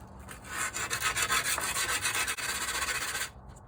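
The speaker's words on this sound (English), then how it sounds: "Found my sanding block thing." Rapid back-and-forth scraping of a sanding block on wood from a kick drum, loud and close, continuing for about three seconds before stopping abruptly.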